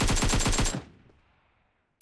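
Automatic rifle fire in the mobile battle royale game PUBG Mobile rattles out as a rapid burst of about eight sharp shots, then cuts off into a fading tail and near silence before another shot begins.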